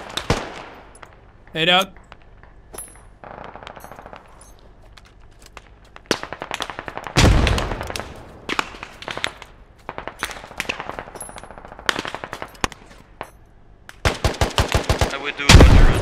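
Machine gun fire in the tactical shooter Squad comes in sharp bursts and scattered single cracks, some close and loud, others more distant, ending in a fast rattling burst; a voice briefly speaks among the shots.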